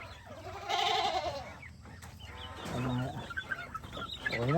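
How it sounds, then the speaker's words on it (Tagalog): Farm chicks peeping together, with louder rooster-like clucking calls and chirps rising over a steady background, close by and busy. "Yan, mga sisiw natin."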